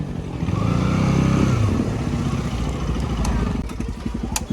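A KTM Duke motorcycle engine idles and putters nearby, revving briefly early on before settling into a steady chugging rhythm.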